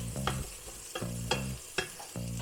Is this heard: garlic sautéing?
yes